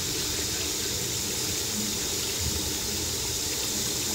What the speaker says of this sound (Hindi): मैं इसके अंदर पानी ऐड कर दूंगी।